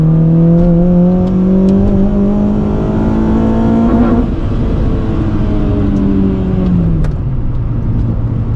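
A turbocharged car fitted with Unequal Fabrication long tube headers roars at open throttle under load, its engine note climbing steadily, dipping briefly, then rising again, loud and close throughout.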